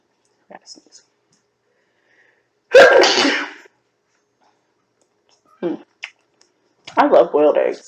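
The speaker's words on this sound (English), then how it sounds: "ooh, I gotta sneeze." One loud, sudden sneeze bursts out close to the microphone while a woman sits eating. Brief quiet mouth sounds follow, and then her voice resumes.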